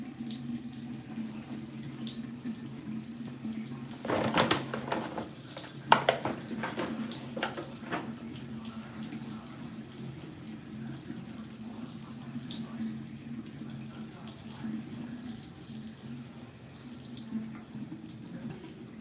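A tap runs steadily into a hotel sink while makeup is washed off, a continuous rushing stream broken by a few louder splashes and knocks early on, with no talking.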